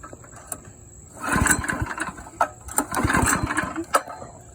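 Coleman CT200U-EX Wildcat 223cc mini bike engine cranks and catches, running in uneven bursts with short pauses and sputters, close by and fairly loud.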